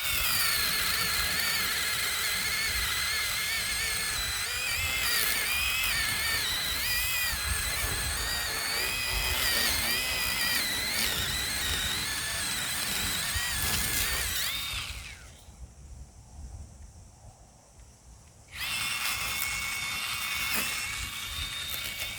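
A Bauer 20V cordless electric chainsaw cuts through a vine with a loud, steady whine and buzz. The motor drops away for a few seconds, then spins back up.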